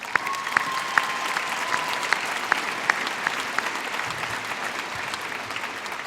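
Audience at a high school graduation applauding warmly, a full, close wash of clapping with distinct individual claps popping through, sustained loudly for several seconds.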